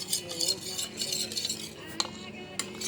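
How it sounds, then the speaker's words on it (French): A utensil stirs clafoutis batter in a bowl, giving a soft, steady scraping and clinking, fairly quiet, with a couple of sharper taps against the side. "mélangez un peu votre pâte"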